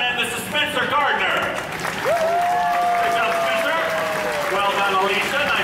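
The crowd at Disney Hollywood Studios' Indiana Jones Epic Stunt Spectacular applauds continuously throughout, a broad wash of clapping that runs beneath an announcer's amplified voice.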